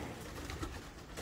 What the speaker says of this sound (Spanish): Hay una tórtola que es súper bonita.